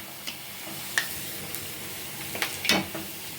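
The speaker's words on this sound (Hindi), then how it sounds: "अब इसे निकाल के एक प्लेट में रखते हैं और बाकी मंचूरियंस को भी फ्राई कर लेते हैं" Beans Manchurian balls fry in hot oil with a soft, steady sizzle. Scattered pops and crackles rise above it, some louder than others.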